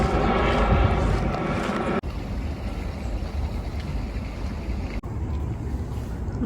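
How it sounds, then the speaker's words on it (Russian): A police helicopter circles over a Buenos Aires park, a continuous rumbling drone heard outdoors under gusty wind noise, with no speech. "Вертолет полицейский кружит туда-сюда."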